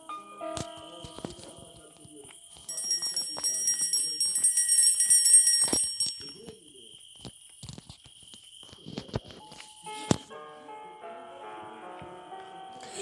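A doorbell-style electronic chime plays a tonal melody, followed later by another ringing tune, with a few soft clicks and movements in between.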